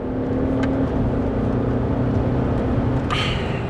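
A BMW X5 4.8i accelerates hard, its engine a steady close rumble with a droning tone that holds and then drops, brief whooshing bursts passing over the continuous road noise.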